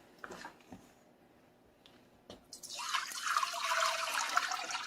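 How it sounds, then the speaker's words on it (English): Water is poured into a hot skillet while cooking sausage gravy, giving a sudden rising hiss and sizzle after a few quiet clicks and handling sounds. "So I always put a little bit of water in it"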